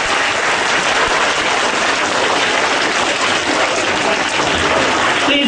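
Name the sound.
school assembly applause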